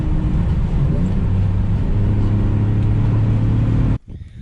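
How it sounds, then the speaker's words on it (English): A car engine drones loud and steady with rising and falling revs as the driver repeatedly gets on and off the gas, then cuts off abruptly near the end. "We just keep getting on and off the gas."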